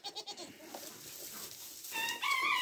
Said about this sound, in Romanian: Caprele sunt pe partea cealaltă, două.